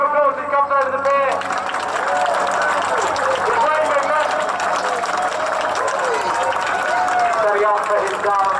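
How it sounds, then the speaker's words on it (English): A large outdoor crowd applauds steadily as a parachutist lands beside a pier, the clapping broad and sustained throughout while a commentator's amplified voice carries over it. "Big round of applause as he comes over the pier."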